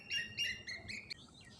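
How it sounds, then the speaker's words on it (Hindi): A small bird chirps nearby in a short run of quick, bright calls, fairly loud and close, with no speech over it. "ये चिड़िया कहाँ से बोल रही है?"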